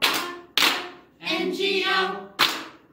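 Sharp hand claps cut in during a children's group singalong of the Bingo song, with three crisp claps spaced between stretches of sung voices.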